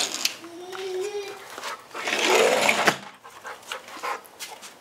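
A large young dog pants steadily up close, with quick rhythmic breaths that carry on beneath a person talking indoors.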